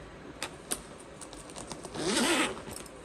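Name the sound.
zipper of a crossbody bag pocket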